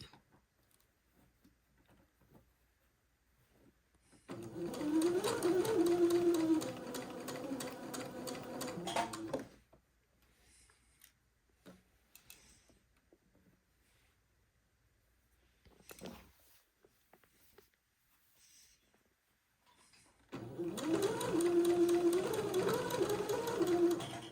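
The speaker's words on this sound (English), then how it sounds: "we'll need to continue to sew right through the V separation of the placket itself" Sewing machine stitching down through the V of a smocked bishop-style garment's placket, two steady bursts of several seconds each separated by a quiet pause with faint handling sounds.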